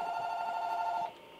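A telephone's electronic ring, a single steady trill lasting about a second before cutting off, clear and close in a quiet room.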